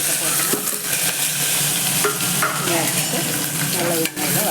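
Onions frying in hot oil for a cauliflower kurma, stirred steadily: a loud, dense sizzle close by, broken by repeated scraping strokes of the spoon through the pan.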